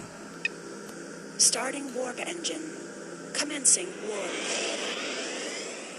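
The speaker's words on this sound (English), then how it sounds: "Starting warp engine. Commencing warp." Spaceship warp engine in the space game Second Galaxy, a steady airy roar with a swelling whoosh toward the end, with a voice speaking over it in bursts.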